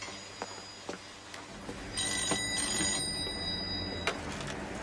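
A telephone rings during a Cantonese film scene, a bright electronic ringing tone sounding for about two seconds in the middle against a quiet room background, with no talking.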